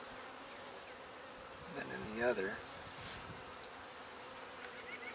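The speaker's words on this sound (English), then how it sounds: "Lots of drones, lots of bigger bees here" Honeybees and larger drones buzz inside a nuc hive, a soft steady hum with one brief louder buzzing swell near the middle, and a few spoken words heard faintly.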